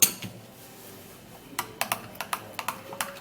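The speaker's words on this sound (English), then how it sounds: "and then we mix it up again" Spoon clicking against a bowl while mixing a beetroot and banana face mask with milk, a quick run of sharp close taps in an irregular rhythm after a quiet start.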